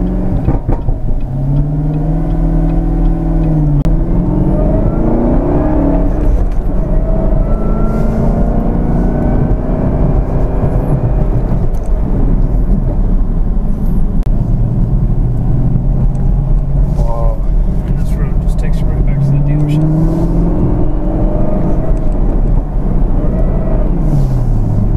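A powerful Camaro ZL1 or BMW M5 engine roars continuously, its pitch climbing and falling as it revs and accelerates, loud and close, with no talking.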